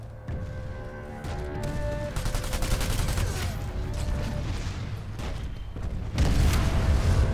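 Gunfire and explosions from a PlanetSide 2 battle, including a C4 detonation, with dense overlapping shots and booms and a heavier blast near the end. No talking is heard.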